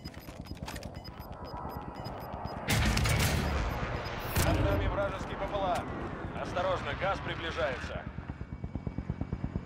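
Gunfire rattles in bursts in Call of Duty Warzone, loud volleys and a rapid run of shots near the end, with a helicopter-like drone and game voices talking over the action.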